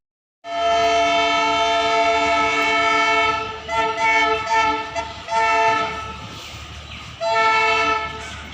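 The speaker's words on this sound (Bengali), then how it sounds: "কুঝিকঝিক শব্দে টয় ট্রেন দার্জিলিংয়ের উদ্দেশ্যে রওনা হয়ে গেল" The horn of the Darjeeling toy train blares in long sustained blasts, loud and close, breaking briefly and sounding again as the train pulls out of the station.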